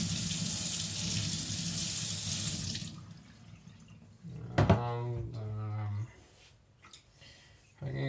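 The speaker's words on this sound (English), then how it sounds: "Rinsing off the stone." Water from a kitchen tap runs over a sharpening stone for a Zwilling petty knife, a steady hiss that cuts off after a few seconds, followed by quiet clunks and someone speaking.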